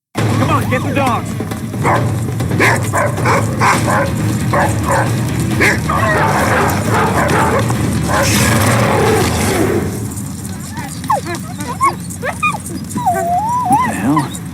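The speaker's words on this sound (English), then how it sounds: "Come on, get the dogs." Several dogs bark, yip and whimper in repeated bursts, close and loud, mixed with people talking over them.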